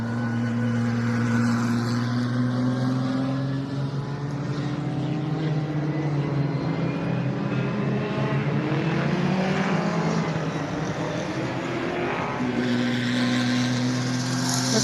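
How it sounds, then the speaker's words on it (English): A Dodge Intrepid engine in race trim powers a spec racer at a speed festival, holding a loud, steady droning roar throughout, its pitch slowly shifting as the car runs past on track. "let's listen into a Dodge Intrepid engine in race trim"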